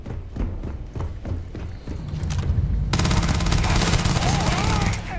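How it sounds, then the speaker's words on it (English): Rapid SMG bursts from the video game Starfield rattle loudly in quick repeated shots, with single reports first and then a dense sustained volley over game sound. "This is a really sick SMG."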